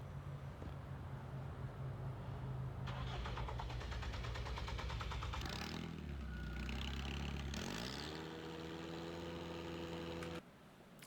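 Engine running with the exhaust disconnected because of a rusted-off bolt, a rough, raw clattering drone that rises in revs partway through and then cuts off near the end.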